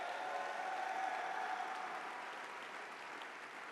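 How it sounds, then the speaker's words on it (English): Audience applause at a startup competition finals event, a steady wash of many hands clapping that holds evenly throughout and eases off slightly toward the end, with no voices over it. "let's give her a huge round of applause as well"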